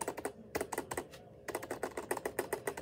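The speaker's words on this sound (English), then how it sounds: "let's try hearing how good our new keyboard space bar was on" Rapid typing on a computer keyboard with springs added under the space bar produces a dense run of close, crisp clacks with one brief pause midway.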